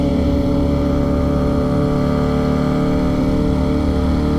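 A Ducati Streetfighter V4S motorcycle engine runs steadily close by, giving a loud, continuous idle drone with no speech over it.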